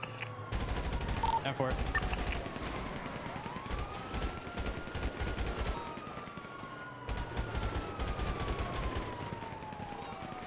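Rapid machine gun bursts in the video game GTA V, loud and dense, with sirens wailing through the mix and a voice speaking briefly over the gunfire.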